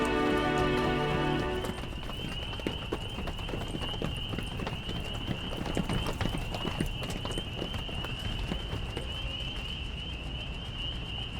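Horse hooves clip-clop steadily at a brisk pace as a young Cossack rides out somewhere near the Black Sea coast, fairly close and continuous, with music fading out at the start and a high steady tone running beneath.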